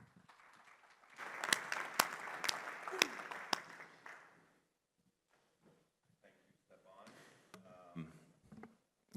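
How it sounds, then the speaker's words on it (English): Conference audience applauding a speaker at an air transport industry event, a burst of clapping with a few sharp close claps that fades after about three seconds into quiet, followed by talking. "Please, a round of applause for Amir"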